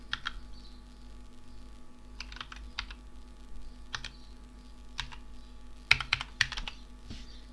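Password being typed on a computer keyboard while setting up a playlist in the TiviMate app, heard as scattered, uneven bursts of light key clicks with pauses between them, close and fairly quiet, with no talking.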